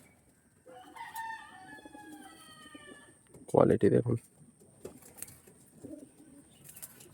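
Pigeons at a breeder's loft give a loud, close burst of throaty cooing in the middle, with fainter coos afterward, while someone speaks briefly beforehand.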